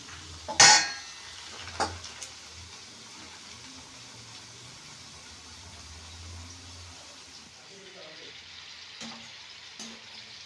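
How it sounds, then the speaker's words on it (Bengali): A second batch of snacks frying in a pan, a low steady sizzle with a sharp metal clank of a utensil early on and a few lighter knocks later. "আবার দ্বিতীয় ব্যাজে সবগুলো একই রকমভাবে আমি ভেজে নেব"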